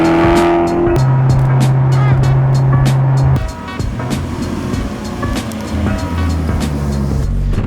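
A 2010 Maserati GranTurismo S engine revs loudly and steadily while driving, with a rising tone shifting partway through and continuing after a brief dip, close and dominant with no talk.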